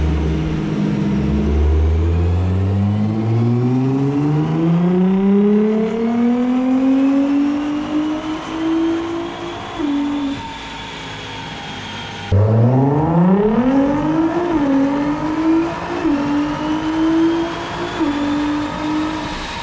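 A Nissan R35 GT-R engine with an EcuTek custom reflash runs on an AWD Mustang dyno, climbing steadily through a loud rising pull, dropping off briefly, then revving up again in a second strong sweep.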